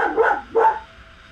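A dog barks twice in quick succession indoors, two clear mid-pitched woofs close to the microphone, followed by quiet room tone.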